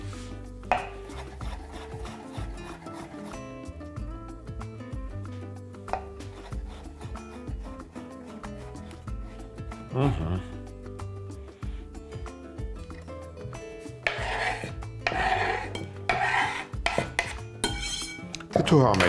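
A knife finely chops marinated pickled cucumbers on a cutting board, producing rapid, close, rhythmic taps that come in louder bursts in the later part.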